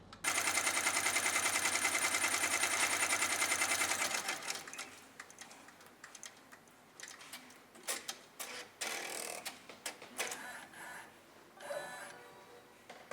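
An embroidery machine stitches a design with a rapid, steady mechanical chatter for about four seconds, then stops, leaving scattered clicks and knocks of handling nearby.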